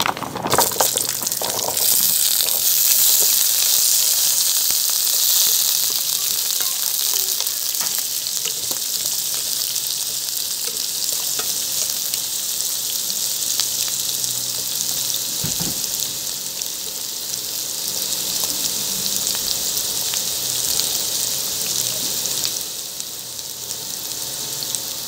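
Steady, loud sizzling and crackling of pork and carrots frying in a hot pan for pork puchero, with occasional stirring scrapes, continuing throughout without talk.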